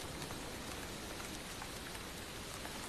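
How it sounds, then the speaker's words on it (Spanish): Heavy rain pours down at night in the Albanian Alps, a dense, steady hiss of drops drumming on surfaces with no break and no voices. "Llueve a cántaros durante toda la noche."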